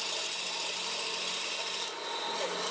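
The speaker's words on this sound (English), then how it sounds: "Then I got some 3/4 inch dowel and cut a thin disc from it." A thin disc is cut from a 3/4 inch wooden dowel by hand, a steady continuous rasping saw stroke close up, with no talk.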